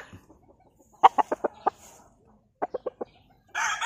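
Close clucking from a Boston Roundhead gamefowl rooster, a quick run of five sharp clucks, a pause, then four more, ending on a louder burst of crowing.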